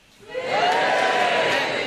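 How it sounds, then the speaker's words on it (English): A television studio comedy audience breaks into loud cheering and whooping, rising quickly from quiet and holding as a dense crowd roar for nearly two seconds. "give me a cheer"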